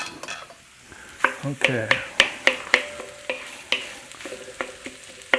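Turkey fried rice being stir-fried in a pan, with a spatula clacking in sharp scraping strikes at an irregular rhythm over a steady low sizzle; a voice speaks briefly.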